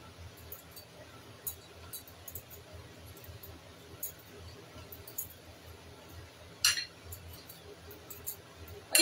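Corn and semolina batter being stirred in a bowl, with soft squishy mixing and faint, scattered clinks of a utensil on the bowl, one louder knock near the end.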